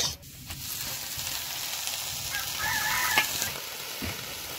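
Onion and grated coconut fry together in a pan, giving a steady, close hiss of sizzling oil broken by a few light scrapes and knocks from stirring.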